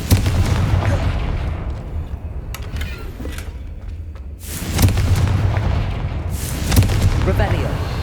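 Confringo fire spell blasts in the Hogwarts Legacy video game, two loud booming bursts over a dense, rumbling game soundscape.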